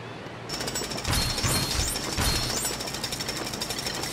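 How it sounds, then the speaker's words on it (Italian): A jackhammer pounds at a construction site in LEGO City Undercover, starting abruptly and hammering in a fast, steady, loud rattle that carries on without a break. "Hai ancora il martello pneumatico del cantiere, no? E allora usalo!"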